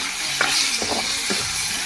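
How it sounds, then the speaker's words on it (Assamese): Silkworms tossed into a hot pan with onion and chili fry with a bright steady sizzle, broken by a few scraping stirs and soft thuds of the food moving around the pan. "এবাৰ মই পলুখিনি দি দিম।"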